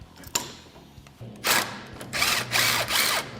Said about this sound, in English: We're going to go ahead and start removing our radius arm hardware.